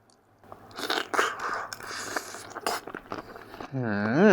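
Someone eats a spicy Thai papaya salad with fresh shrimp, taking big bites with loud, close crunching and chewing in irregular bursts, ending with a short vocal exclamation.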